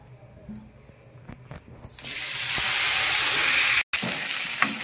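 Mint leaves dropped into hot oil set off a sudden loud sizzle that surges and then holds as a steady, bright frying hiss up close, after a quieter stretch of faint kitchen sounds.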